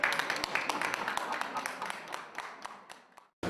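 At an art exhibition opening at the Cheonan Arts Center, an audience claps in a quick run of sharp, moderately distant hand claps that thins out before stopping abruptly.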